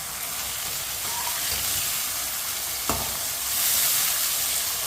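Long-cut tomato and six finely chopped green chilies frying in a pan for matar pulao, a dense continuous sizzle and hiss with a brief stirring scrape, close and steady, no voices.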